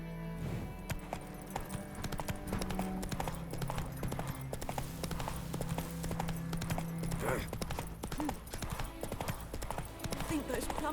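Horse hooves gallop in a steady rapid clip-clop through The Witcher 3 video game, continuous and fairly loud throughout, with a voice speaking over the running hoofbeats.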